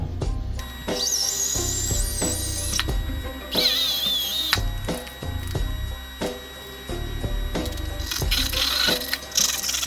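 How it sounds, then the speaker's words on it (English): A drill works a 10 mm bit to widen a bolt hole during a rear brake upgrade on an Integra RSX. The motor whirs in steady surges with whining pitch shifts and short pauses between runs. "I'll take a larger bit, I believe it's 10 millimeters, until the hole is wide enough for the supplied bolts to fit through"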